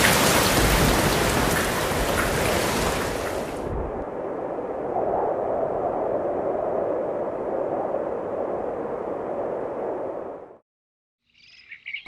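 Heavy rain pours down steadily in a loud, dense hiss, then eases to a softer, even patter on a surface before cutting off abruptly.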